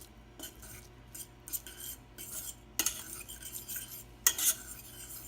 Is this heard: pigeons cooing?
no